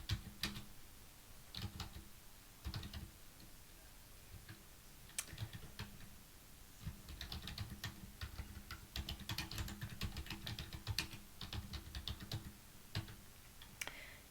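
Someone types on a computer keyboard in a quiet office, with irregular clusters of soft key taps and a few sharper clicks running steadily throughout, close and fairly faint.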